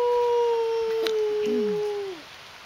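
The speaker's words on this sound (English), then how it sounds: "They howl." A single long, wavering howl like a wolf's rises and slowly falls away over a faint background hiss, with no talking.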